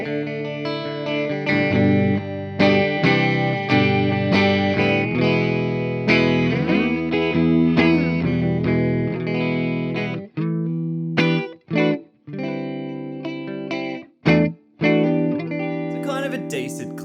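Electric guitar played through an IK Multimedia Orange Tiny Terror amp simulation on a clean setting, with sustained strummed chords ringing out, then short choppy stabs and pauses near the end, loud and close with no talking.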